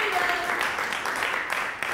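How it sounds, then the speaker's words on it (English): Church congregation applauding during a morning celebration service, a steady broadband patter of many hands clapping that fills the whole moment, with a murmur of voices mixed in. "I love the applause this morning"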